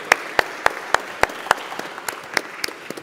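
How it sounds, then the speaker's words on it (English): Scattered clapping greets a speaker at a longevity medicine workshop, with sharp, evenly spaced claps from a nearby pair of hands over a soft, thin background of a small audience applauding. "let's give Evelyne a round of applause and welcome her."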